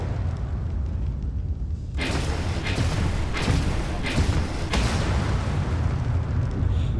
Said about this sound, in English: Huge asteroid explosions.